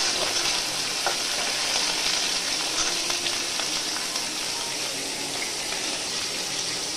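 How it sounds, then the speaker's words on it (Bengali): Prawns frying with turmeric and salt in a pan, a constant hissing sizzle that stays even and close throughout, with faint scattered crackles and no speech. "তারপর হলুদ লবণ দিয়ে চিংড়িটা ভালো করে ভেজে নিয়েছি।"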